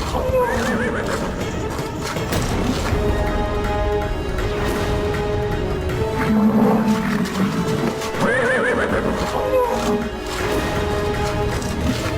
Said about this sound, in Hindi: अश्व की ध्वनि इतनी तीव्रता से क्यों हिनहिना रही है ये?